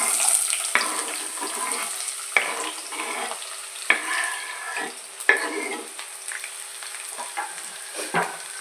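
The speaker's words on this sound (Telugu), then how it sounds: "ఉల్లిపాయలు బాగా ఫ్రై అవ్వాలండి" Onions fry in hot oil for an eggplant and broad bean curry, a bright continuous sizzle up close with occasional scraping stirs of a spoon against the pan.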